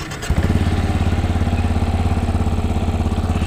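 A Benelli Imperiale 400 motorcycle engine catches after a brief crank and settles into a loud, close, steady thumping single-cylinder idle.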